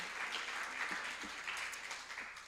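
Audience applause at a Sunday church celebration service, a steady wash of many hands clapping that holds evenly throughout at moderate loudness, with no voices over it.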